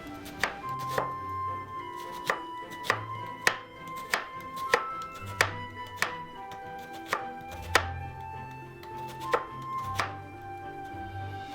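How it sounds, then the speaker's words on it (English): Onion sliced with a knife on a cutting board, a dozen crisp, evenly spaced knocks close by, each with a short ringing tone, no voices. "slice the 100 grams of onion"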